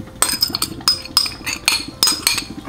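Metal spoon stirring wine, softened oranges and gelatin mix in a pan, giving repeated sharp clinks and scrapes against the metal in an uneven rhythm, close and fairly loud with no talk.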